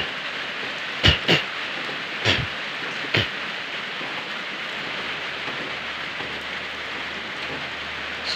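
Steady rain pours down in a continuous broadband hiss during a storm, with a few sharp drop or knock transients early on and no talking.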